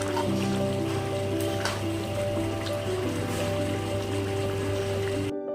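Shrimp and bottle gourd curry bubbling on the stove while being stirred, a loud continuous seething boil over a steady low hum, stopping abruptly at the end.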